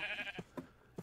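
Sheep bleating in the video game TerraFirmaCraft, a short, faint bleat followed by a few soft, brief bleating calls spaced roughly every half second.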